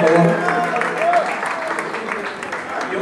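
An audience at a live concert in a bar applauds, with a spread of clapping and crowd noise beneath a voice talking over it.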